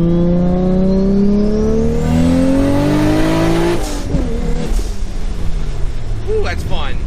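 An E85-fuelled car accelerates hard in second gear, its engine note climbing steadily and loudly up through the revs for several seconds before a shift or lift, followed by rumbling, tire noise and brief squeal-like sounds.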